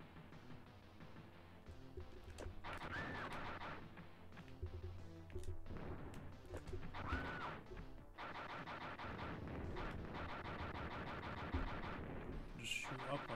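Rapid bursts of gunfire and crashing blasts from the SNES game Robocop vs Terminator rattle on and off throughout, fairly faint, with a voice talking at times.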